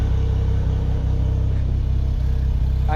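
Suzuki Cara with its DOHC F6A engine running steadily, a loud low rumble with a faint pulsing throb and no clear rise in pitch, close to the engine, no voices.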